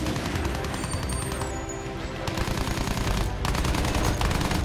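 Aircraft machine guns in a World War I shooter game strafing the ground in long, loud, rapid bursts with a brief lull midway, close and harsh over a rumbling engine bed.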